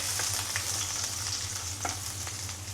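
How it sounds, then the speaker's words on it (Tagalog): Garlic sautéing in a hot pan gives a steady, close sizzle with a few light stirring taps, and no voices are heard. "gigisa na natin itong kulay natin. Kailangan unahin muna natin ang garlic."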